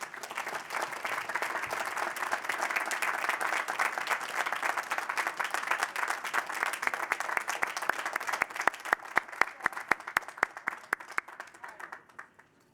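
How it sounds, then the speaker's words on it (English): Big audience applause at a university architecture commencement ceremony, dense and steady at first, then thinning into a few separate claps before fading out. "Another round of applause for Dr."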